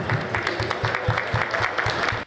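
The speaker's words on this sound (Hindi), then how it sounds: "आप चाहें तो तालियां भी बजा सकते हैं जी" Brief, steady applause from a small audience, rapid overlapping claps, then it stops abruptly.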